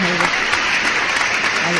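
Steady applause on a radio broadcast in honour of a woman radio technician, dense and continuous through the short stretch.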